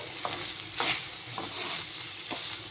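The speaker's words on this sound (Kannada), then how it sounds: "ನೀವು ಇದನ್ನ ಲೋಳೆ ಹೋಗೋವರೆಗೂ ಫ್ರೈ ಮಾಡ್ಕೋಬೇಕು." Okra fries in oil in a pan for a spicy stir-fry: a soft, steady sizzle is broken by a few scraping stir strokes, close and quiet with no talking.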